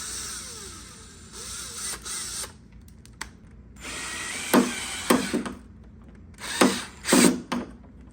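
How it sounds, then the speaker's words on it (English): A power drill fitted with a flexible attachment backs a screw out of wood, with sporadic whirring bursts and ratcheting clicks between quieter pauses, close up and moderately loud. "attach it to my drill, and angle it to try to get that screw out"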